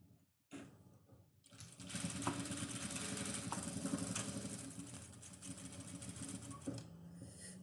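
A sewing machine runs a steady, continuous stitching drone with a backstitch to lock the seam on a fabric piece, starting after a brief pause and holding close and even to the end.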